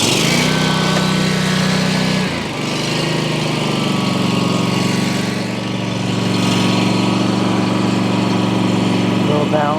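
A Scag 36 commercial mower with a Kawasaki gas engine, which has a fault where gas comes out of the exhaust, runs close by with a steady buzzing drone that dips and shifts in pitch partway through.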